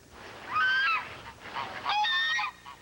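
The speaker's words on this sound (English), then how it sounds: "If the female of this bird is a goose, what do you call a male?" Two bursts of loud goose honking, clear nasal calls repeated in quick runs with a short pause between, heard alone without any talk, played as a video question on a 1993 children's quiz show.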